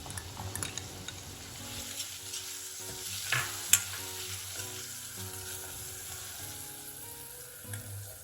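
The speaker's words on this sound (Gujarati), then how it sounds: "અને હવે આપણે 1 થી 2 મિનિટ માટે ઓનિયનને થોડું કૂક કરી લઈશું." Finely chopped onion fries in a pan for a Rajasthani dal recipe, a soft steady sizzle with occasional stirring scrapes and clinks, fairly quiet and close throughout.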